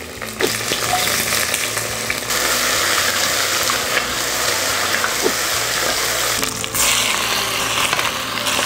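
Aromatics for chicken ramen fry in a hot pan, a steady loud sizzle with scraping stirs running throughout and brief clinks, no voices.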